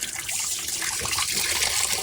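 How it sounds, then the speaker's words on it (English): Water rushes and trickles steadily out of a drain valve on an under-sink reverse osmosis filter system, a constant hissing, splashing flow heard up close. "I put these couple valves in to drain water."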